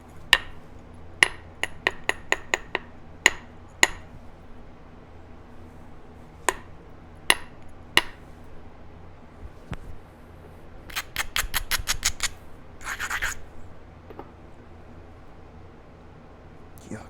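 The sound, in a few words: trimming an obsidian Clovis point while flintknapping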